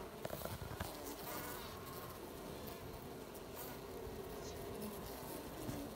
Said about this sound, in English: These are about the most gentle little group of bees we've had in a little bit.